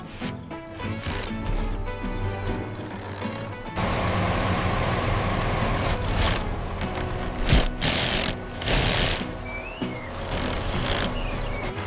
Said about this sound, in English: Hand me the impact wrench.